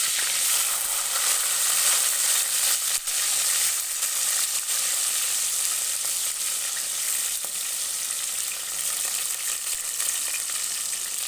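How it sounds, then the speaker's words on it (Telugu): Onion and green chilli frying in oil in a kadai, a loud, continuous dense sizzle that holds steady from start to finish with no talking. "తర్వాత ఉల్లిగడ్డ పచ్చిమిర్చి వేసుకొని వేయించుకుంటున్నాను"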